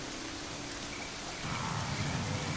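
Heavy rain pours down steadily as a dense, even hiss that grows louder and fuller partway through, with nothing else heard over the downpour.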